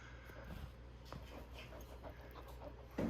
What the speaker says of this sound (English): Hendrix the Goldendoodle with his stuffed T-Rex